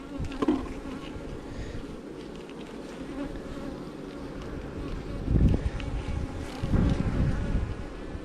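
Dense, steady buzzing of many honey bees around an open hive during an inspection, close to the microphone, with occasional louder bursts and light wind noise.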